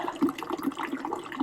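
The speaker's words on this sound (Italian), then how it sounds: "c'è la fontana che ho aperto per lasciare un attimo a correre l'acqua" Water running from an opened public fountain, a soft, bubbling, uneven trickle heard up close at low volume, with no voices.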